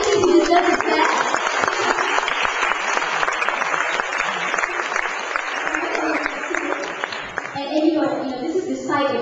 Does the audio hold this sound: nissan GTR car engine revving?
no